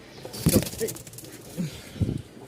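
A male pigeon coos nearby in short, soft, low throaty bursts, about three separate calls in quick succession against a quiet background.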